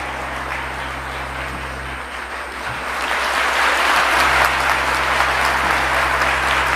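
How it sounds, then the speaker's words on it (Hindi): Sustained audience applause at a talk by social activist Gauri Savant, a dense wash of clapping that swells and grows louder partway through over a steady low hum. "बजा लीजिए तालियां जरा।"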